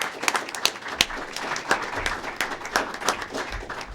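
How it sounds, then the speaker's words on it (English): An audience at a school recognition ceremony gives the fine arts students a round of applause, with moderate, scattered clapping from a crowd in a hall. "please give me a round of applause for the fine arts students"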